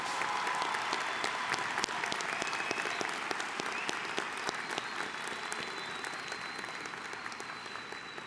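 A large commencement audience applauds honors graduates and candidates at a university ceremony: a steady, even rain of clapping that holds for the whole stretch, slightly distant, with a faint sustained tone behind it.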